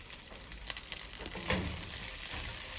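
Plant pieces fry in a hot pan with a steady, moderate sizzle, punctuated by a few small pops and crackles, close and without voices.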